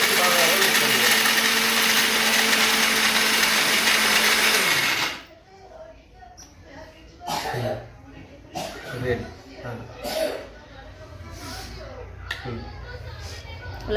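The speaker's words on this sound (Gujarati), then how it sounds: "મિક્સરમાં ને બદામ નાખીને પાવડર થોડે કરી નાખશું." A kitchen mixer grinder whirs loudly and steadily while grinding almonds into powder, then cuts off abruptly, leaving room noise, clatter and people talking.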